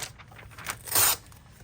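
A page cut out of a magazine with scissors for an art journal: one quick, crisp papery rasp in the middle of a quiet stretch.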